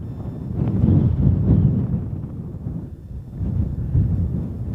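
Strong wind buffets a bare hilltop at Whinlatter in wintry weather, a continuous loud low roar with gusts swelling and easing throughout.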